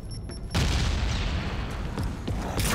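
A loud, sustained roar of explosions fills a raid on an outpost in a survival video game. A continuous blast-heavy din with scattered impacts rises abruptly after a brief quiet moment.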